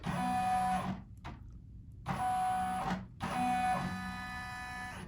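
An embroidery machine stitching a gift card holder in the hoop makes a steady, close mechanical whir with a high whine. It stops briefly twice and then resumes, with no voices.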